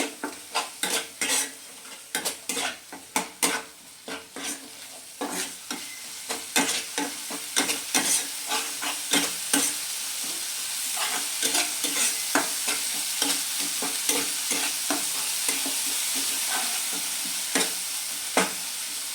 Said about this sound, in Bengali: দিয়ে এটা ভালোভাবে মিশিয়ে নেব।